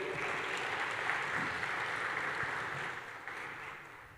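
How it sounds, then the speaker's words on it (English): Audience applause for the judges at a main-stage presentation event, a steady wash of clapping from the crowd that holds through most of the moment and tapers slightly toward the end. "Let's give a round of applause to our judges today."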